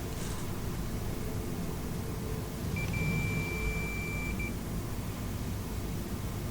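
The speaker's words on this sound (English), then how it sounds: "This is a continuity test. You can hear the beep sound, means all the wires are okay, they are not broken inside." A multimeter's continuity beep while testing the windings of a three-phase induction motor, a single steady high tone lasting under two seconds over a constant hiss.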